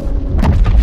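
A short, heavy boom bursts out in the video game Star Citizen, a loud low-pitched explosion with a quick crackling tail.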